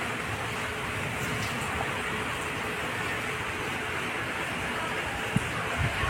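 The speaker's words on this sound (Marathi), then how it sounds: "खूपच जोरजोराने पाऊस येऊन राहिला आहे" Heavy monsoon rain pouring down steadily, a dense, even wash of hiss across the whole stretch with a couple of faint knocks near the end, no voices.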